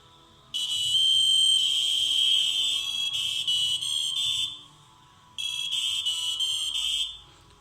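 A loud, shrill large electronic buzzer, a sensor-kit component, sounds in two long bursts, piercing and steady, separated by a brief pause, with no talking.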